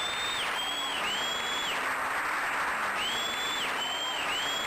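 Steady, loud applause from a crowd fills the whole stretch as a dense, unbroken wash of clapping. Repeating electronic tones glide over the top of it.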